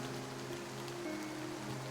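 Steady rain falling, an even, continuous wash of faint hiss with a low hum underneath, no distinct drops or breaks through the short stretch.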